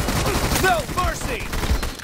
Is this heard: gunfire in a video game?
yes